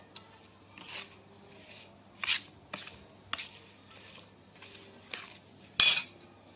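Raw mango pieces are stirred into Rambandhu pickle masala, giving soft scraping and rubbing under a few sharper clinks of a utensil against the bowl, scattered irregularly and heard close and quiet.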